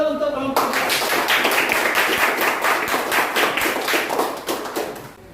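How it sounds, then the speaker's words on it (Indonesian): Classroom audience clapping for a group of presenters, a burst of brisk, even hand claps starting abruptly and continuing steadily at close range, with light thumps mixed in, no voices over it. "Tepuk tangan dulu untuk kelompok 2"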